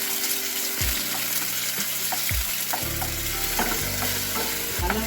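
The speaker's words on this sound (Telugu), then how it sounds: "అల్లం వెల్లుల్లి పేస్ట్ స్మెల్ పోయేదాకా బాగా యాగనియాలి, పచ్చివాసన పోయేదాకా" Ginger garlic paste with bay leaf, cinnamon and cloves fries in a pan with a loud, steady sizzle close by, broken by scraping stirs and occasional clanks of a utensil, with no talk.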